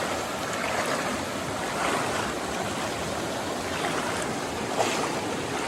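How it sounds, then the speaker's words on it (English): Cold, swiftly flowing stream water running about shin-deep at a trail crossing, a steady broadband rush of water that stays close and constant throughout with no talk. "that water's moving pretty swiftly"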